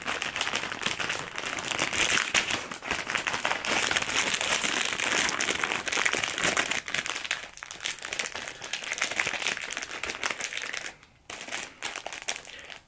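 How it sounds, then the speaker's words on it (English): Continuous loud plastic crinkling and rustling close by, steady for most of the stretch before dropping briefly near the end. "Now I'm gonna go ahead and put it back in the plastic bag."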